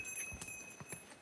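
Horse hooves clip-clopping on a crowded mountain pilgrimage trail to Yamunotri, a few uneven steps close by and fairly quiet, with no talk.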